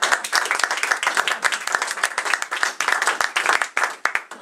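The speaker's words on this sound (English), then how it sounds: "can I stand up and clap?" An audience at a local history society talk claps in dense, continuous applause, fairly close and lively, with no voices over it.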